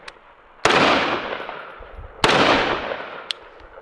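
Two loud, sharp gunshots about a second and a half apart from a suppressed firearm fitted with a Surefire Warden muzzle device, each with a booming report that decays over roughly a second, plus a faint click between them.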